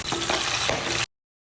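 Pork belly for lechon kawali deep-frying in hot oil, a close, steady, loud sizzle with a few pops, cutting off abruptly after about a second.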